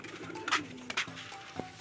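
Racing pigeons coo in soft, low throaty bursts, a few calls spaced apart, fairly close, over faint background noise.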